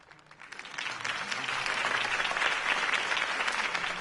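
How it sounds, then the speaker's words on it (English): Crowd applause erupts after a campaign speech in a Batman game, a dense, steady clapping that swells within the first second and holds loud and even to the end. "If only Mr. Wayne, my campaign's largest backer, could have heard that applause"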